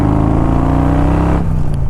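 A Harley Davidson Evo motorcycle engine on a test drive gives a loud, steady rumbling drone that drops in pitch and eases off partway through, as if throttling down.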